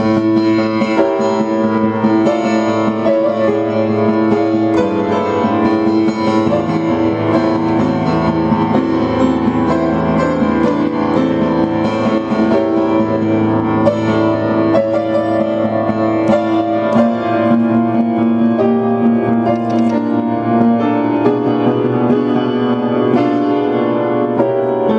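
Piano plays a continuous passage from Beethoven's Für Elise, full and close, with sustained pedaled notes and no talking.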